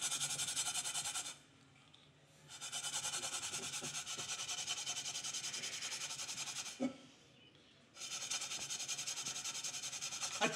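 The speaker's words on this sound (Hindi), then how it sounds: "आपके पास जूना होना चाहिए, जूना, या ब्रश ले लें, कुछ भी ले लें और इसे रगड़ दें।" A blackened cooking pot is scrubbed with a scourer or brush, steady close rasping strokes that pause twice briefly before resuming, with no speech.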